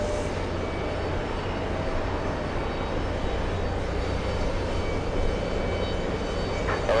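A jet airplane at JFK airport, heard from the TWA Hotel, produces a faint, distant, steady roar that holds evenly throughout.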